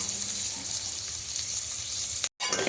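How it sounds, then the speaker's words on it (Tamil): Onions and chillies frying in oil in a pan: a steady, close, bright sizzle running continuously, with a brief cut to silence near the end before the sizzle resumes. "நல்லா பாருங்கள், வணங்கிட்டு இருக்குது வெங்காயம்"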